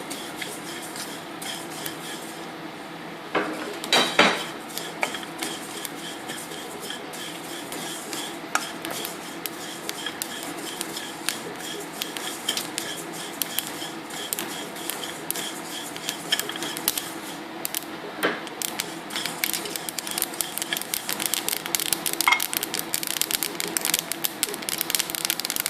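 Sesame seeds dry roasting in a pan while making milagai podi give dense continuous crackling and spluttering, with scraping stirs and louder pops that build toward the end.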